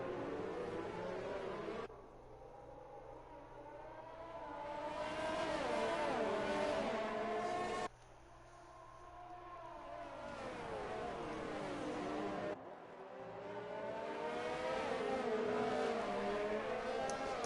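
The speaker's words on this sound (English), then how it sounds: "All 3 cars get through the S's unscathed now, going to the hairpin." Formula One race cars in a video game howl through a series of corners, engines rising and falling in pitch as they brake and accelerate, loud and continuous with sharp cuts between gear changes.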